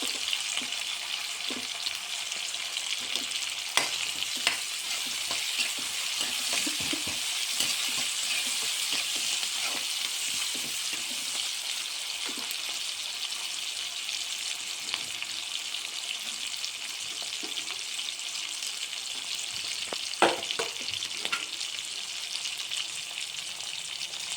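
Curry leaves crackle and sizzle as they hit hot oil in a pan, a steady close frying hiss for Telugu-style brinjal and tomato curry, with occasional sharper pops and stirring scrapes.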